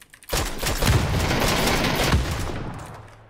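Gunfire in the PUBG battle royale game: a loud rapid burst of automatic shots rattling for about two seconds, with a couple of heavier cracks inside it, then fading into a trailing echo.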